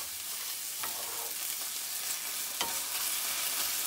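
Ginger-garlic paste is stirred into frying onion and tomato in a pan, a steady hiss of frying broken by a couple of louder scraping strokes of the spoon, close and without talk.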